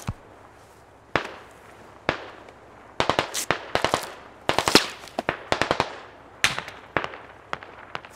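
Sharp gunshots in the video game Squad crack in irregular bursts, some single and some in quick clusters, loud and close over a faint background hiss.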